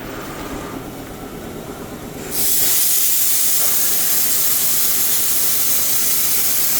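A CNC plasma cutter on a 5x12 table starts cutting 1/4 inch steel: quiet shop hum, then a sudden loud, steady hissing roar that holds on without pause.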